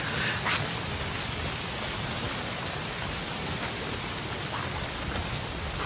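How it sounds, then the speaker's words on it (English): Steady, dense rain falls in the Days Gone video game, a continuous broadband hiss of drops on surfaces that stays even and fairly loud throughout, with no talk over it. "Why is it always raining?"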